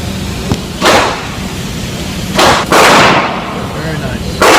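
Three sharp, loud Mossberg 500 shotgun blasts, the shotgun fitted with a Knoxx SpecOps Gen II recoil-reducing stock, ring out at irregular intervals, each trailing off into a short echo.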